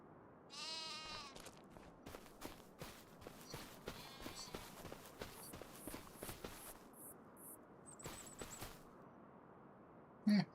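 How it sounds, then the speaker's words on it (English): Sheep bleat in a farming video game, a couple of wavering bleats up front, followed by a run of light tapping footstep-like clicks, all fairly faint and close. "We're checking the sheep here."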